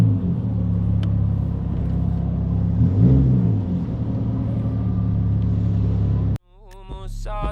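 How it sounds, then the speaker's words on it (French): Modified cars rumble and rev while pulling out of a parking lot at a Tokyo car meet, a deep, loud, sustained engine drone with a rising rev in the middle, cut abruptly near the end by a different sound. "tous ceux qui ont les voitures les plus modifiés et qui veulent pas finir avec la voiture à la fourrière sont en train d'essayer de partir du parking comme ils peuvent"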